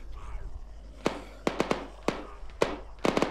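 Distant gunshots from an enemy player in Arma 3, fired in sharp single cracks and quick bursts of two or three, echoing faintly with a low background hum and no talk over them.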